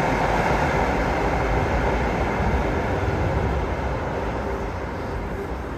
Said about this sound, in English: Alright, we see a UTLRT train pull in.